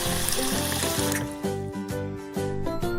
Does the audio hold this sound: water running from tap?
yes